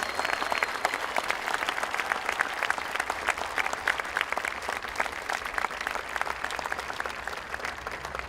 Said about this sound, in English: Let's give a well-deserved round of applause to our retiree Paul Veit.